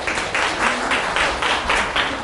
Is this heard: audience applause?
yes